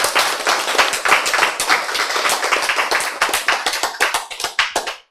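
A health-lecture audience claps together in a dense, lively burst of many hands, loud and close, fading out abruptly at the end.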